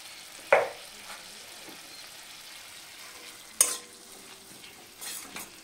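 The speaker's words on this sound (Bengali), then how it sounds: "মশলাটা আমি কিছুক্ষণ কষিয়ে নেব" Spice paste of ginger and turmeric fries quietly in a pan with a soft sizzle, broken by a few sharp scrapes and clinks of a spatula stirring it.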